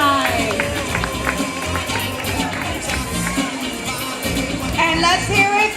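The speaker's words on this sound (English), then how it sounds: "Give him a big round of applause." A school audience at a word parade claps and cheers loudly and continuously, with children shouting amid the noisy, echoing hall and voices talking over it.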